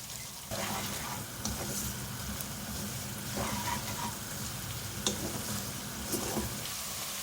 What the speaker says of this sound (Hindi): अब ये प्याज के साथ फ्राई करेंगे और प्याज का अच्छा सा गोल्डन कलर करना है।